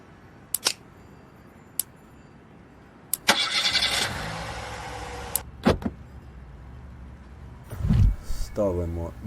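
A car engine starts in a Ukraine-themed GTA video game, following a few sharp clicks. A short cranking roar settles into a steady idle, and a voice speaks briefly near the end.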